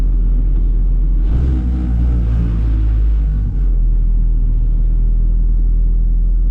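A Honda Civic EG with a D16 engine and nitrous drives along, its steady loud low engine rumble and road drone filling the cabin, swelling briefly with a brighter rush midway before settling back to an even hum, no talk.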